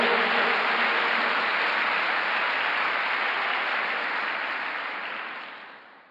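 A congregation claps during a Sunday worship service, a broad, even patter of many hands that holds steady and then thins and fades toward the end, with no talk over it.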